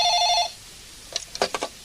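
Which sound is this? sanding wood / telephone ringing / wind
telephone ringing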